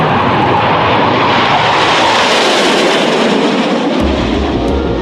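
A MiG-17F jet fighter, its engine fitted with an afterburner, roars loudly as a dense, steady rush that swells and then deepens toward the end.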